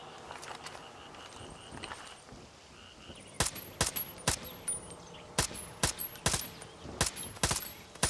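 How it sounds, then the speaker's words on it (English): Suppressed VHX-type rifle firing in Far Cry 6, a quiet stretch followed by a string of sharp, clipped single shots spaced irregularly about half a second apart. "here's how it sounds with a suppressor in Far Cry 6"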